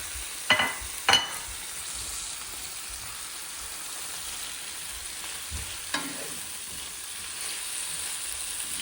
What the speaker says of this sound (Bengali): আর এবারে এটাকে একটু কষাচ্ছি ভালো করে এবার ঢেলে দিলাম চিংড়ি মাছটা